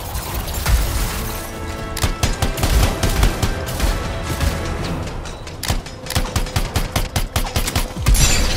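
Turret gunfire in the video game Anthem, a long stream of rapid, loud automatic shots with crashing impacts and mechanical clatter, close and continuous, the firing rhythm stuttering in bursts near the end.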